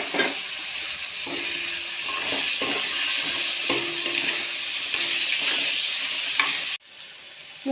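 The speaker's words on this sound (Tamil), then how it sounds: "க்ளீன் பண்ணி வச்ச நண்டை சேர்த்துக்கலாம்." Cleaned field crabs go into a hot pan with sautéed aromatics and rock salt, hissing and sizzling steadily while a spoon scrapes and stirs. The frying noise cuts off abruptly near the end.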